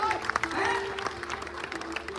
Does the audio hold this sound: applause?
yes